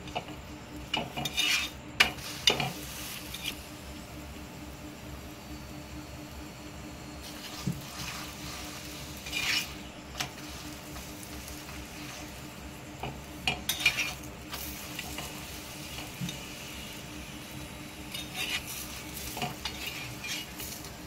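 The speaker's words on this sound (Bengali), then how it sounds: "অল্প অল্প তেল দিয়ে দিয়ে এপিঠ ওপিঠ ভেজে নিচ্ছি।" Carrot and potato stuffed paratha fries in a little white oil on a pan and is turned to cook both sides, giving a soft, steady sizzle with a few light scrapes and clinks of a utensil.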